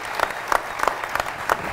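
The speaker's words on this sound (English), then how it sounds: "Give a round of applause for these guys." Audience at a San Diego craft beer industry talk applauds the panelists, close, steady clapping from a room of people with several sharper individual claps standing out in the mix.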